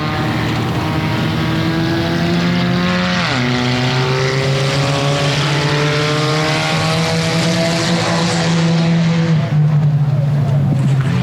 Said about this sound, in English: Your 4-cylinder main event is underway.